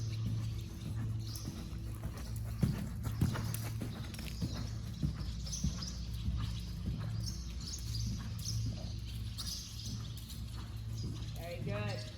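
A horse in a riding lesson moves between sitting canter and trot, its hooves thudding in a steady rhythm on arena footing at moderate distance, while an instructor talks over it throughout.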